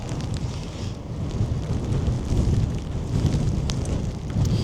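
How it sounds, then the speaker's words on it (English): Heavy rain and gusting wind at a fairground under construction, a loud continuous rushing roar with low rumble and scattered patters, steady throughout with no voices. "it has started to rain quite heavily"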